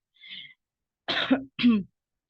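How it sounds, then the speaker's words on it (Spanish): A faint breathy noise, then two close, harsh coughs with a throaty clearing edge, one right after the other, from someone with the flu. "tengo medio influenza y tengo un poquito de tos"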